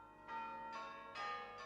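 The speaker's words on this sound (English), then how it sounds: "Belgium, where the carillon still plays." Carillon bells ring out in Belgium, several tuned bell strikes in succession with long ringing overtones that overlap and sustain, moderately distant with no voices.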